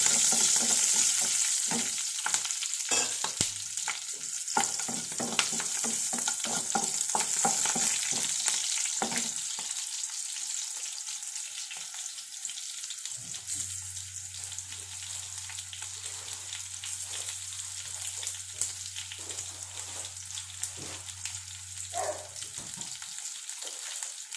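Mustard seeds and fenugreek crackle in hot oil. A busy sizzle with scattered pops fills the first half, then settles into a quieter fry under a low steady hum.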